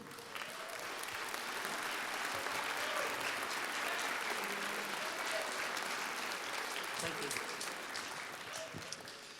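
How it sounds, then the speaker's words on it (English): An audience in a school auditorium applauds honors band students, a dense, sustained wash of clapping from many hands that holds steady for several seconds before tapering slightly, with faint voices mixed in. "go ahead and stand and accept a round of applause at this time"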